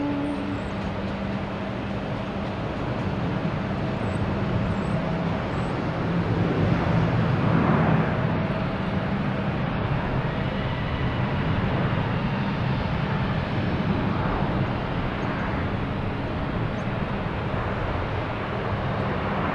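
A Lufthansa Boeing 747 arriving at Boston Logan Airport, a steady broad jet roar that swells and holds throughout, heard from a distance outdoors with constant rumbling wind-like noise.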